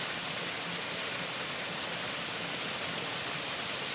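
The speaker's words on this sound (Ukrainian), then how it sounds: "А у нас знову дощик починається." Rain falls steadily outdoors on a rural homestead, a dense, even hiss of drops with no breaks. It is moderately loud and runs for about four seconds without voices.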